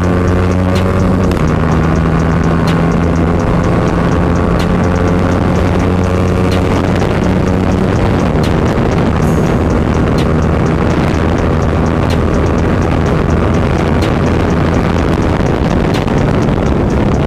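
Yamaha R15 motorcycles, an R15M against an R15 MotoGP edition, in a drag race: a loud, steady engine drone that climbs slightly in pitch as they accelerate, with heavy wind buffeting over the microphone and no talking.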